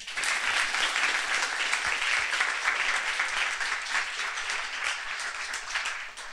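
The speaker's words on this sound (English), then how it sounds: "Please, big round of applause for Luka, Amalia, Lana, Asger, Marin and Kri" A conference audience gives steady, full applause for a student finance panel, dense clapping that holds evenly at close range for over six seconds with no voices over it.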